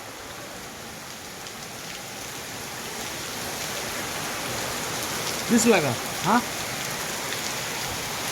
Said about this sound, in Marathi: तुफान असा पाऊस चालू आहे